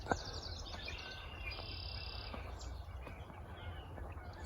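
A small songbird sings a high, thin, rapid warble at a distance, faint over a steady hiss of outdoor ambience with insect buzz.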